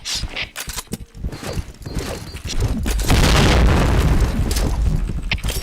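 A grenade goes off in a first-person shooter: scattered clicks and shots give way to a loud, deep blast that rumbles on for a couple of seconds, with no voices over it.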